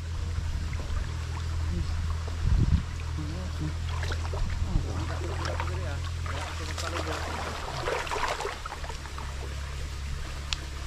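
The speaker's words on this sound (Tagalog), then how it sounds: "Kaya maingay dyan mga idol kasi may tubig galing sa palayan" Water spilling down from a rice paddy like a small waterfall, a steady rushing wash under intermittent voices and handling noises nearby.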